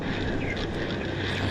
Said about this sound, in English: Saab taking off. Saab on the roll.